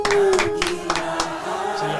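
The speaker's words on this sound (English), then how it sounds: "I get the applause" Audience applause in a podcast studio setting, a short burst of several hands clapping at close range, loud and fairly dense at first and then thinning out over about two seconds.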